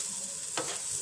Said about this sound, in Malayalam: തേങ്ങ കരിഞ്ഞു പോകാതെ ഇളക്കണം കേട്ടോ